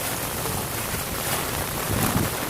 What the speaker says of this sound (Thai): ได้ยินเสียงงงตัวฝนไหมตกมาก